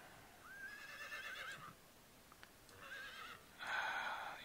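Horses neigh in Heroes of Might and Magic 3, with clear, fairly loud whinnies, one near the start and a brighter burst near the end, separated by a brief quiet gap.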